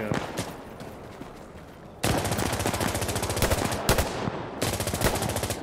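Rapid automatic gunfire rattles in Insurgency Sandstorm, with loud, close bursts of evenly spaced shots, a brief lull, then sustained firing resuming and a final burst near the end.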